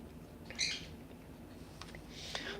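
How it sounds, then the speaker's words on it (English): A pet bird growls in the background, two short raspy, squeaky bursts spaced apart, faint and somewhat distant over a low room hum. "Yeah, you can probably hear her growling in the background."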